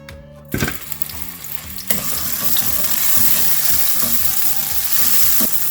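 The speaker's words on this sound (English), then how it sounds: "To this pan, I'm going to add a little bit of olive oil, then some minced garlic." Minced garlic sizzles in olive oil in a pan for a marinara-based meatball sauce. A soft start swells into a loud, steady frying hiss with occasional stirring clicks, and no one speaks.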